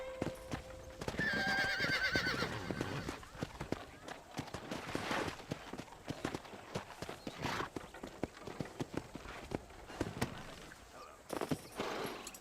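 A horse in the Western video game Red Dead Redemption gives a loud, close whinny early on, followed by a steady clip-clop of hooves, with faint voices talking underneath.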